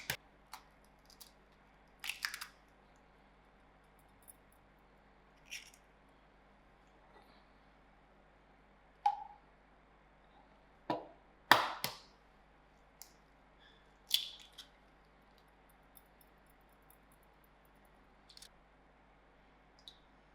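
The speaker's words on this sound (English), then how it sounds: "I'm going to break up my eggs" Eggs cracked and broken up in a bowl while making South African Malva pudding, heard as sparse, quiet clicks and soft wet taps scattered over about twenty seconds, with a few sharper knocks in the middle.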